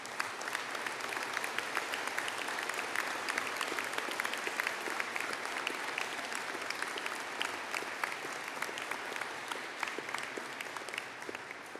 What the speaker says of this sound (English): stand for a collective round of applause